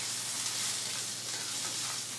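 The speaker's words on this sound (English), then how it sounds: "That sizzle." Butter sizzling hot in a pan with asparagus, a steady, dense, close frying hiss that continues unbroken for a couple of seconds with no voices.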